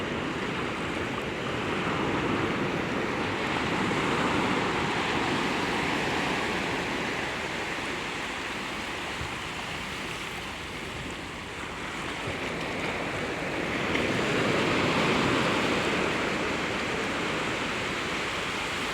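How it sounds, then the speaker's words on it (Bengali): Waves churn against an eroding riverbank where water swirls and drains off through a canal, a broad, continuous rushing wash with wind, swelling and easing steadily and with no one speaking. "দেখো কী পরিমাণ ঢেউ।"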